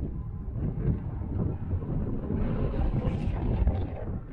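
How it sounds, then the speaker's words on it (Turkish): Steady, heavy wind roaring and buffeting outdoors, a continuous low rumble with gusts swelling louder toward the end, no voices. "Çok rüzgar var."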